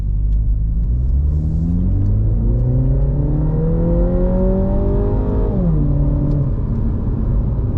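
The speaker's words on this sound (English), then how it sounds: "It just keeps revving" A Mini Cooper S F56 engine revs hard and loud up close, its pitch sweeping steadily upward for several seconds before dropping sharply and settling back to a lower drone, with no talking.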